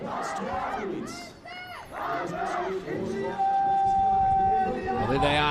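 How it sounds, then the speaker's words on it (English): Crowd at an under-18 men's compound archery team gold-medal final, India versus USA, cheering and shouting for the athletes, a loud continuous mass of voices with whoops and a sustained tone late on, more cheering than clapping. "please give a warm round of applause to our athletes"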